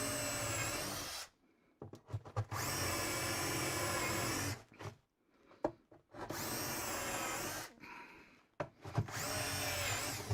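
A drill boring countersink holes into wood, three long whining bursts separated by short pauses with small clicks and handling noises between them.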